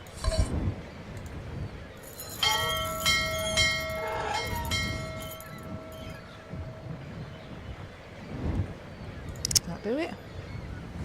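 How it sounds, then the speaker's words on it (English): In the Syberia adventure game, a bright bell rings with sustained metallic tones that linger for a few seconds amid ambient noise, followed by faint clinks and a brief chiming sound near the end. "The bell did indeed ring"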